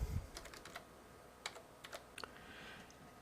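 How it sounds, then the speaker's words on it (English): Scattered keystrokes tap on a computer keyboard while text is typed into a word processor, a few quiet clicks in short bursts with pauses between, starting with a low thump. "I'll click the left mouse button once, and I'll start typing some text"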